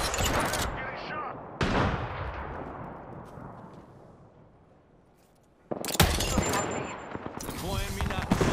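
Gunfire in Apex Legends, sharp loud bursts at the start, near the two-second mark and again toward the end, with a quieter decaying stretch between and voices talking over it.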